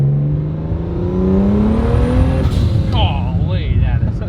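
A BMW 335i with a single turbo accelerates hard, its engine note climbing steadily in pitch over a few seconds. Excited voices break in near the end.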